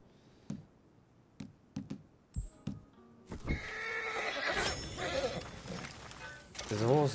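A horse in the Red Dead Redemption video game gives a loud, shrill whinny near the end, preceded by scattered hoof clops and game sounds.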